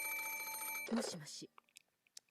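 A telephone rings in a steady electronic trill for about a second, then a voice speaks briefly over the end of it before a quiet pause with faint clicks.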